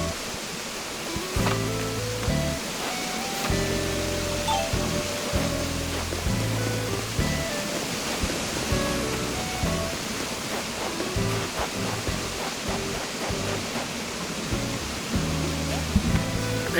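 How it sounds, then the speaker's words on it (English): Steady rushing wash of a small one-tile waterfall on an Animal Crossing New Horizons island, continuous and fairly loud, with a melodic game music track playing over it. "A one space waterfall."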